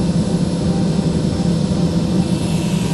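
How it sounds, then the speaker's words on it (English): Steady, loud turbine whine and roar with a strong low hum from a car powered by a helicopter turbine engine, continuous throughout without pauses. "It's got a helicopter engine in it."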